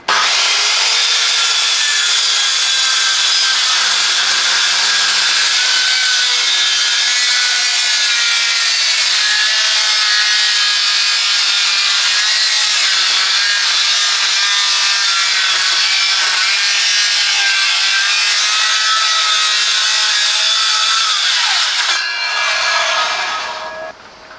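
A HYCHIKA 1300W electric circular saw cuts through thick wood, its loud steady whining grind running unbroken for about twenty-two seconds before the blade spins down.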